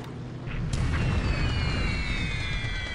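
A bombing explosion sound effect in a wartime radio drama: a sharp burst followed by a sustained, rumbling boom that rolls on at steady loudness, with no voices.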